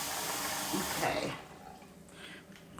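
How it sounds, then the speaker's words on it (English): Tap water runs into a bowl of rice being rinsed in a kitchen, a steady hiss that splashes briefly and then fades to a softer trickle. "I'm going to rinse it again."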